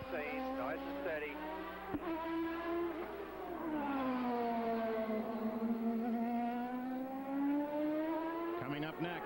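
An IndyCar race car engine on the final lap holds a loud, steady high-pitched whine that dips and rises slightly, with a commentator's voice at the start and end.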